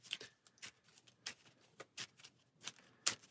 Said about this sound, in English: you've got their instinct cards, giving them a good shuffle